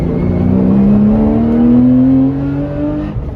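Porsche 996 GT3 accelerating hard from inside the car, its engine note rising steadily in pitch and staying loud and close throughout, then easing off briefly near the end.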